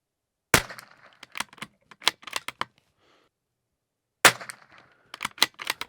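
Rifle with a thumbhole stock fired at a target, giving two sharp, loud reports about four seconds apart, each followed by clicks and handling clatter nearby.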